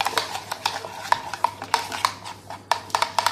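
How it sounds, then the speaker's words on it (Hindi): A spoon scrapes and clinks against a bowl while spice masala is stirred and mixed for a chicken steam roast. The strokes come in an irregular series of sharp clicks over a quiet background. "इस मसाले को अब हमने अच्छी तरह मिक्स करना है"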